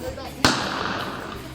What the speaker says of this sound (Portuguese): Tiro pra cima.